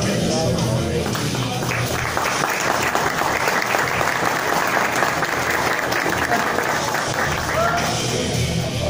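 Graduation audience applauding, a dense sustained burst of clapping from a crowd that swells and carries on for several seconds before easing slightly.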